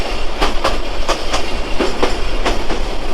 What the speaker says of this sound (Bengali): সত্তর কিলোমিটার যাচ্ছে কুড়িগ্রাম এক্সপ্রেস ট্রেন